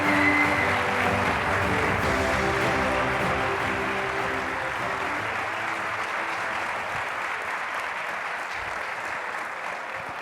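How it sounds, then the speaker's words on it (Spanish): Audience applause fills a lecture hall at a university engineering school talk, a steady, dense round of clapping that fades slowly over ten seconds, with no talk over it. "lo único que podemos hacer es dar un grande aplauso para Toni Cuquerella."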